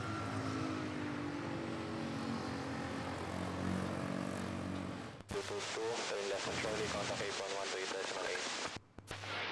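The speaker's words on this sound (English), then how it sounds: "See here, we have Malaysian Airlines 737 MAX 8." Malaysian Airlines Boeing 737 MAX 8 jet at Manila Airport, a broad steady engine roar that cuts abruptly halfway through into a brighter, busier section with a voice speaking over it.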